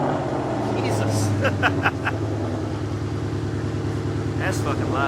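A 2018 Mustang GT V8 running with its stock exhaust removed idles loud and lumpy with a deep burbling throb, a few sharp blips breaking through, while people talk over it.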